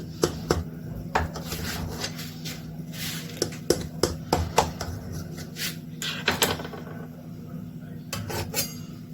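A knife cuts through a baked casserole in a metal tray, making scattered clinks and scrapes against the pan, with a low steady hum underneath and a voice talking at times.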